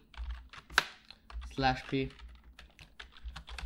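Quick bursts of computer keyboard typing while entering HTML code, light clicking keystrokes close by, interleaved with a person talking.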